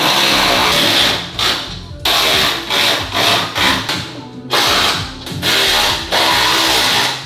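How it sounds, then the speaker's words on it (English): Electric ratchet spinning a nut onto a bolt in a Lexus engine bay, loud whirring bursts that start and stop in a choppy rhythm, close up with no talking. "I'm just gonna ham it and go use the electric ratchet instead"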